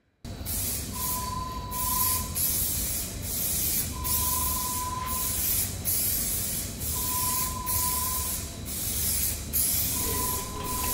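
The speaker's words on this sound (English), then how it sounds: "ready to spray my base coat" Aerosol spray can laying down a base coat of paint, a loud close hiss in repeated passes of about two to three seconds each, separated by brief pauses.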